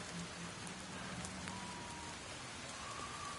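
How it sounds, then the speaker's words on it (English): Steady rain patters on surfaces in the island survival game Bootstrap Island, a soft, even hiss throughout with a few faint tonal blips in the background. "kind of seems like the rain is chilling out a little bit."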